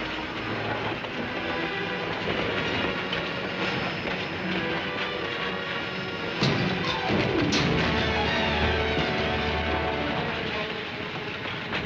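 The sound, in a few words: train running on the rails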